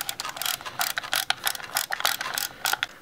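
Ratcheting clicks from winding film onto the take-up spool of a Lomo Lubitel 166B twin-lens reflex camera, a close, steady series of crisp mechanical clicks in quick uneven bursts with no talking.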